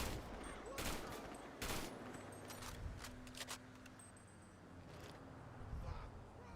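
AK assault rifle firing in the FiveM mod of GTA V: repeated loud, sharp bursts and single shots spread across the clip over a steady background hum.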